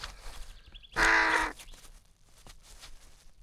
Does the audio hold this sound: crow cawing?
yes